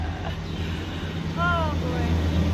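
A helicopter flying overhead outdoors, a low droning hum that swells slightly louder partway through, with a brief tonal warble over it.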